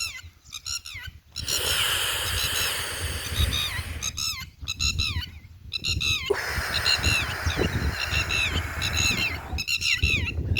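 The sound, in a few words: red-wattled lapwing calling repeatedly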